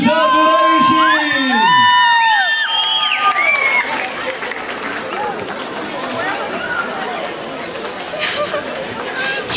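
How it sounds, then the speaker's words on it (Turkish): Audience at a mini concert cheering for Burak, with loud excited shouts and whoops opening the moment, then settling into crowd chatter and clapping. "alkışlar Burak için"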